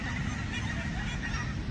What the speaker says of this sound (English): Look at these geese. They're Canada geese. There are hundreds of them.